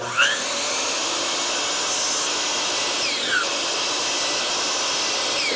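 A power saw runs steadily while making 18-degree angled cuts through a wooden board for a patriotic wooden star, a continuous loud whine with brief higher sweeps as the blade bites in.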